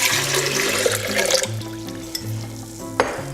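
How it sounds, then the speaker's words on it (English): Water pours from the tap into a blender canister, a bright splashing gush for about a second and a half that gives way to softer trickling and dripping, close by. "I take my canister here and I'm going to put my water in first."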